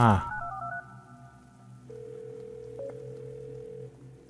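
Telephone dialing tones in the Roblox game Welcome: a quick run of keypad beeps, then a single steady electronic tone that holds for a couple of seconds with a brief blip partway through.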